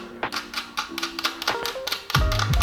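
Small lock nut being fitted onto a bike tire valve, a quick run of close metallic taps and clicks with brief tonal ringing, ending in a louder thud of handling.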